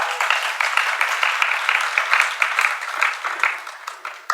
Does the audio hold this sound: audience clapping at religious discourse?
yes